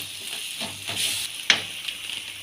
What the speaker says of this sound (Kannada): ಶುಂಠಿ ಬೆಳ್ಳುಳ್ಳಿ ಪೇಸ್ಟ್ ಹಾಕಿ ಚೆನ್ನಾಗಿ ಫ್ರೈ ಮಾಡ್ಕೋಬೇಕು